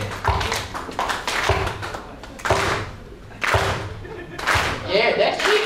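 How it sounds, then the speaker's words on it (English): An audience at a comedy special claps along in a rough rhythmic beat, loud group claps landing about once a second with short gaps, mixed with a voice speaking over them. "I want y'all to clap your hands"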